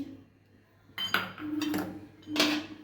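A spoon scrapes and clinks against a bowl while gram flour (besan) is added to mixed winter vegetables with turmeric and sugar for pakora batter; a few close metallic knocks and rattles after a quiet start, no talking.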